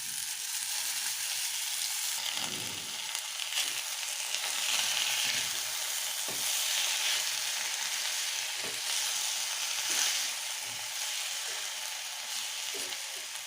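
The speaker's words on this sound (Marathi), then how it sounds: "ठेचा चांगला फ्राय झाला तर याच्यामध्ये टाकू बारीक कापलेली मेथी" A garlic and green chili thecha fries with chopped fenugreek leaves in a pan, giving a steady, continuous sizzle with occasional clicks and scrapes of stirring.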